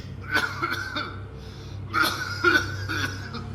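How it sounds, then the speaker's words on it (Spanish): A few harsh coughs come in separate bursts, forceful and close, with short pauses between them. "Una fuerte tos lo interrumpió."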